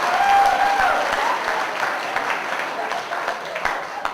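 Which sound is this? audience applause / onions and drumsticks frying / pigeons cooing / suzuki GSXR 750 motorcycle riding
audience applause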